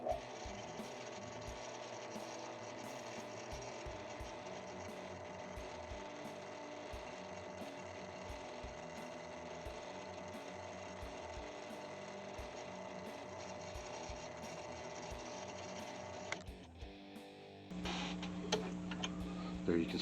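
A small drill bores a vent hole in a 1/24 scale bead lock rim, giving a steady close whirring hum with faint regular ticking that runs for about sixteen seconds before cutting off into brief handling noise.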